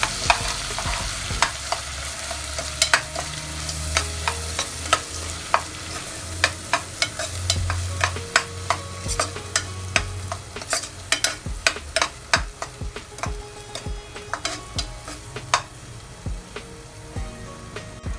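Masala frying in a pan for a spicy village-style chicken gravy, with a steady close sizzle broken by frequent metallic scrapes and taps of stirring.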